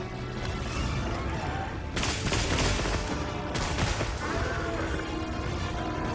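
Weapon shots in Monster Hunter Wilds ring out over steady battle noise, with two sharp, loud bursts of impact standing out against a continuous rumbling background and no talk.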